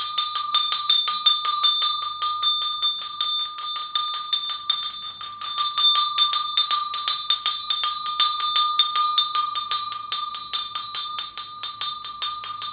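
A bright metallic ritual bell rings in rapid, even strikes, its clear ringing tones sustained and continuous throughout, with a short dip in the middle.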